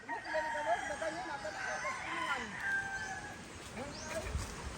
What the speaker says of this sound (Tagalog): Daghan na manok.